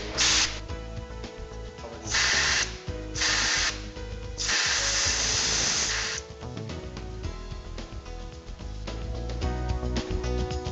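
Pressurized air at 6 to 7 bars hisses through a valve body during maintenance, coming in several loud bursts of broadband hiss over a steady mechanical background, the longest lasting about two seconds.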